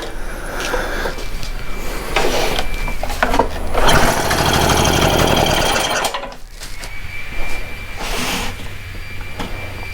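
A Stihl BR800 backpack blower engine runs steadily at high throttle during carburetor adjustment, a loud continuous drone with a brief dip in revs near the middle before climbing back up.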